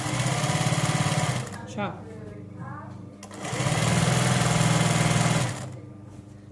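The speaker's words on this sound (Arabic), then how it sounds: "هكذا ونبدا نخيط" Sewing machine stitching fabric for a hijab, running in two loud steady bursts of rapid motor hum with a short pause between, while someone talks over it.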